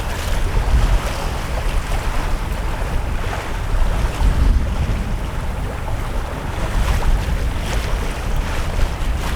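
Choppy Finnish lake water sloshes steadily against a sailboat in October with gusty wind buffeting the microphone, a continuous loud rumble that swells and eases without pause.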